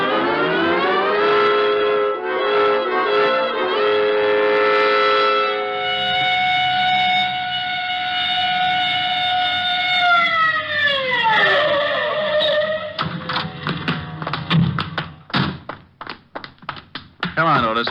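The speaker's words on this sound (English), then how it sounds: "You can use the siren." A police car siren used as a sound effect in a vintage radio detective drama wails in long rising and falling tones, then winds down in pitch and gives way to clunks and bumping noises.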